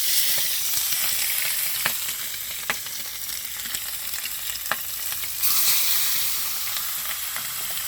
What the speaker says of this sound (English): We're going to set them in this hot skillet, make it do what it do